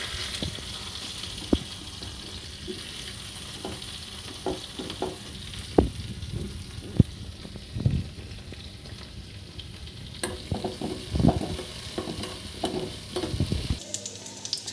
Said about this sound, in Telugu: అదే ఆయిల్లో క్యాప్సికమ్ ముక్కలు వేసుకొని వేగించుకోవాలి.